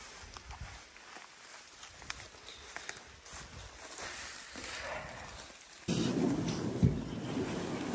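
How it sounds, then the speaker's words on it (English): Rain falls outdoors near water with a soft steady patter and hiss that grows into a louder, denser downpour partway through, with scattered light knocks. "the rain's picked up again"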